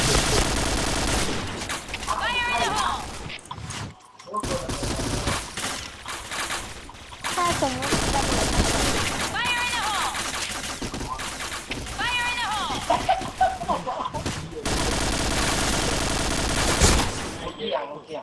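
Dense rapid gunfire in the video game Pantheon rattles almost continuously in long bursts, loud and close, with only brief pauses between volleys.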